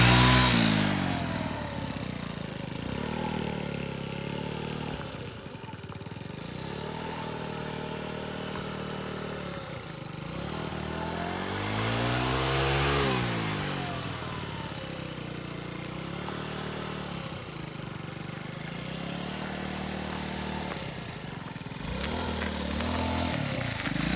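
A cheap two-hundred-euro scooter engine idles and revs in small, timid bursts, its buzzing pitch rising and falling repeatedly over a steady running drone.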